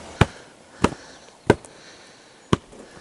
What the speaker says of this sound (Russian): На речке стреляют, да?